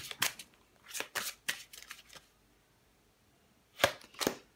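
A deck of archangel oracle cards is being shuffled by hand, with crisp riffling bursts in several quick bunches, then a pause of near silence before two more close shuffles.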